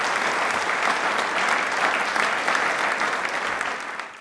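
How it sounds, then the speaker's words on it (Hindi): Audience applause on a TV quiz show: a loud, dense wash of clapping from a studio crowd, steady for a few seconds before tapering slightly at the end. "एक बार तालियां जोरदार होनी चाहिए प्लीज।"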